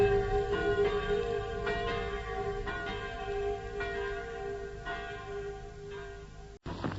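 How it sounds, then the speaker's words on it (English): Church bells of a village ring in 1944, steady repeated overlapping peals, bright and resonant, with a low hum underneath and no voices. "church bells are ringing"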